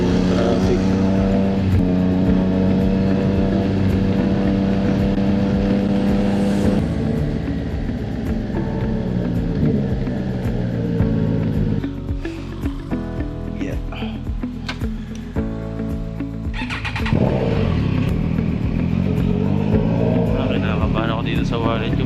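A Triumph Trident 660 motorcycle rides through traffic with a steady, loud engine drone that rises and falls as it shifts and slows, and other vehicle noise mixes in around it.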